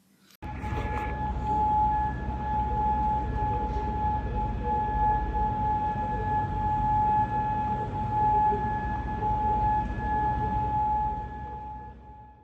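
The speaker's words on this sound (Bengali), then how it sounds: "কুয়েতের সাইরেন বাজার এই ভিডিওটি একদম সত্য।" A civil defense siren sounds in Kuwait, one loud, steady wail held for about twelve seconds before it fades, with a low rumble underneath.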